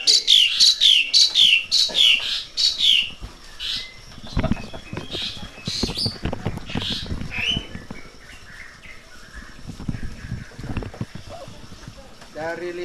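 White-rumped shamas sing bright, warbling phrases at the start, then grow fainter and sparser as people talk and some rhythmic knocking runs underneath.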